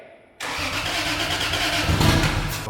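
A turbocharged, straight-piped Lexus IS300 engine cranks and fires up for the first time, jumping abruptly into a loud, rough, close idle that swells slightly near the end.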